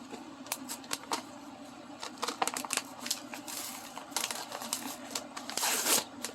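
Quiet crinkling, clicking and tearing from someone struggling to open plastic packaging of a dollar store rock painting craft kit, in scattered irregular bursts with a louder rustle near the end, no talking.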